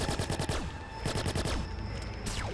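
Rapid automatic gunfire from a weapon in the video game Watch Dogs, loud bursts of closely spaced shots with ringing echoes, continuing throughout without talk.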